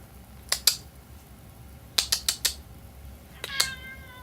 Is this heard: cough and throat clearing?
no